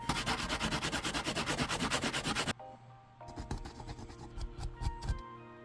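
A figure being sanded smooth for a custom Kick Buttowski build, with steady rhythmic back-and-forth rubbing strokes up close, then lighter scattered scraping and handling noises.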